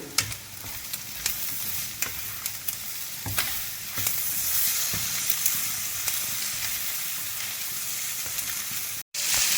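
Chopped tomatoes sizzling and frying in a pan for a Kerala-style shrimp fry, a continuous close hiss of cooking broken by irregular clicks and taps of stirring, with a brief dropout near the end.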